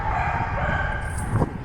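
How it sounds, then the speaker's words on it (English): Dogs bark along a mountain road in Taiwan in the early morning, faint and somewhat distant, with a short burst near the end over steady outdoor background noise. "These dogs."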